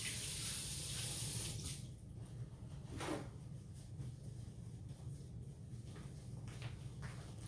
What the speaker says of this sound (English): Let me give my hands a quick wash.